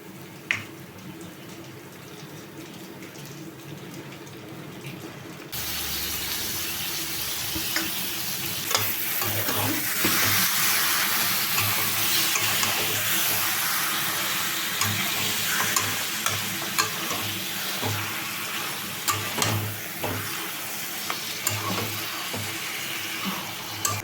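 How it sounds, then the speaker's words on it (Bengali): Marinated chicken frying in a dry spice paste after the oil has separated, sizzling steadily at close range while a spoon stirs and scrapes the pan, with occasional louder clatters. "এবার নেড়ে চেড়ে ভালো করে একটু কষিয়ে নেব চিকেনটা"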